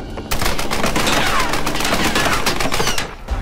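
Rapid, dense gunfire crackles through a Tomb Raider shootout, loud and nearly continuous bursts overlapping for several seconds with no speech.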